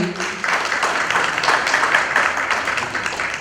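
An audience at an evening honours ceremony gives steady, dense applause throughout, close and fairly loud, with no voice clearly heard over it.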